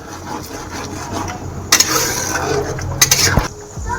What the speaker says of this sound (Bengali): ডালটা পুরো মিশিয়ে নেব